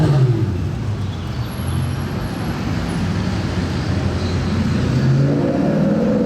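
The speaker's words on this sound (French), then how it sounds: "Quel est ce bruit dans mon dos? Une Mustang." A Ford Mustang engine rumbles and revs nearby at a car gathering, a continuous deep low-pitched roar with a rising swell toward the end, alone without talking.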